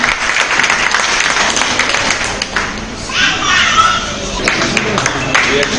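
An audience applauds at a memorial award ceremony honouring doctors, nurses and sanitation workers, with dense, sustained clapping and crowd noise filling the room and voices mixed in throughout.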